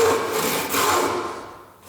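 Hand saw stroking through a piece of wood near the end of the cut, a close, rasping scrape that carries steadily and then fades.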